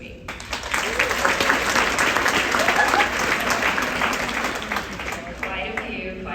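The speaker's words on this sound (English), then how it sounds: "let's do applause because I can't see all of your hands" Theater audience applauding at a screening introduction, a dense, steady wash of many hands clapping throughout, loud and sustained, easing slightly near the end.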